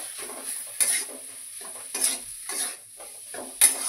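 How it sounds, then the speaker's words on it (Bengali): Spice masala with coriander and cumin powder being stir-fried in a pan for a paneer roll: a sizzling base under about six rhythmic scraping spatula strokes against metal, close and clear, with no talking. "জিরে গুঁড়ো দিয়ে দেবো। ভালো করে মশলাটা কষে নেব।"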